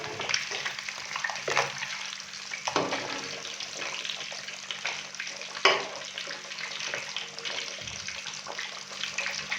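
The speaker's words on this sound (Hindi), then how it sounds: "तो अभी मैं दूसरी साइड को भी 2 से 3 मिनट के लिए फ्राई करूंगा" Rohu fish fries in a kadhai over a medium flame, giving a steady, close, hissing sizzle with small crackling spikes and a few brief bumps from moving the fish.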